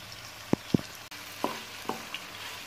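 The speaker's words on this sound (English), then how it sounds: "so we keep stirring it" Goat meat stir-fried with green paprika, heard as a faint, quiet sizzle broken by a few sharp, separate knocks and scrapes of the utensil stirring in the pan.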